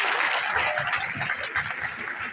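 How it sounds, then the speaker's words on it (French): An audience applauds at a corporate award ceremony, a dense, continuous patter of many hands clapping in a large room. "mais acclamez un peu"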